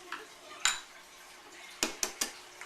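Metal teaspoon clinking against a bowl of warm water as salt goes in, a few sharp close taps with quiet gaps between them.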